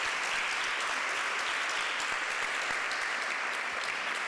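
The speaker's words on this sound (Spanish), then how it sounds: "Un fuerte aplauso para..." A dense wash of steady applause fills the room throughout, moderately loud and continuous with no voices on top, from the audience at a Lesbian Visibility Day event.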